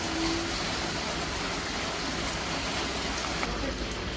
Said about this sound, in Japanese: 雨が結構えぐいんで